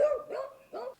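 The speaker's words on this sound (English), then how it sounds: "She starts barking when she hears cars coming up the road." Missy the beagle gives a few short, close barks in quick succession at an apple orchard farm stand, announcing cars coming up the road.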